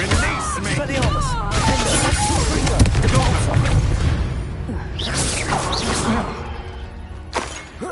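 A spell burst in the Hogwarts Legacy video game, with booming impacts, whooshes and crashing effects layered over game voices and a busy, dense soundtrack, ending with a sharp hit.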